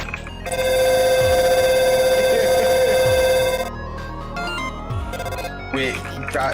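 A loud electronic phone ringtone in the game Undertale blares steadily for about three seconds, then cuts off, leaving quieter game sounds and chimes.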